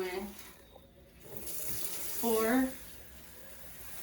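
Tap water running into a container to dilute enzymatic detergent for dental sterile processing, a steady close stream that swells and gushes briefly near the end, while someone speaks quietly over it.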